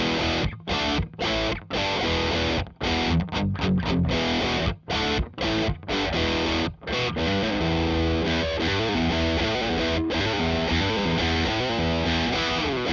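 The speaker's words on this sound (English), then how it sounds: "that's British, which apparently is warm and natural. It sounds like this." A Blackstar Series One 104 6L6 tube amp with its ISF knob at 10 for the British voicing, carrying loud, heavily distorted guitar riffs with staccato chugs and short gaps, then sustained ringing chords.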